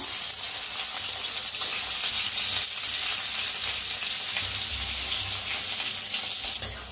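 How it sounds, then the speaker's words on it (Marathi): Chopped onion frying in hot oil in a kadhai, giving a loud, steady, dense sizzle that stays close and constant with no voices over it. "तेल तापले, त्याच्यात टाकूया कांदा।"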